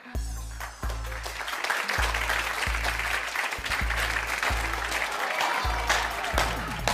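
Talk show studio audience applause fills the room, a steady wash of clapping that holds throughout, with thumping low beats of music underneath.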